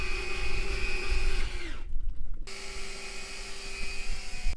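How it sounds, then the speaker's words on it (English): A spray drone's pump runs with a steady, high-pitched whine as water flushes through the nozzles, cutting out briefly in the middle before starting again, loud and close. "Nozzle flushing."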